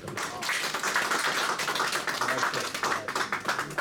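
A live audience claps at an indoor Allama Iqbal Day poetry event, a dense, steady round of applause filling the whole stretch, with no one speaking over it.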